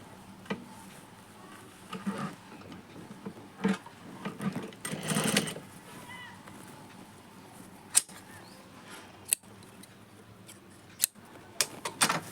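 Sewing machine stitching cloth, quiet and intermittent, with short whirring runs and scattered clicks and taps of handling, no talking.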